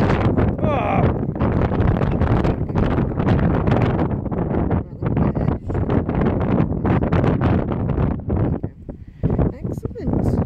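Strong wind buffets a microphone outdoors on a metal-detecting hunt in Cornwall, a loud continuous roar with gusty surges throughout.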